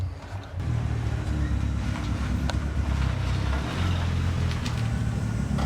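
A car approaches and arrives outside a home garage workshop, a low steady engine rumble rising in after a short quiet moment and holding near and loud, with some wind noise.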